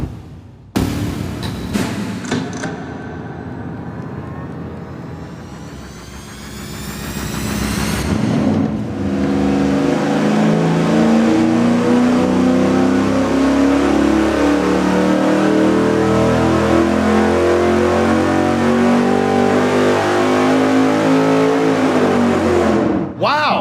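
A small-block Ford Windsor V8 on an engine dyno starts with cranking pops, idles, then climbs into a long, loud sustained rev at full throttle before cutting off abruptly.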